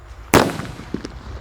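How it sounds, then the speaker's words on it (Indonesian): A Pearl Thunder firecracker goes off with one sharp, loud bang, followed by a brief crackling tail and a few faint pops. "Di sini ada mercon Pearl Thunder"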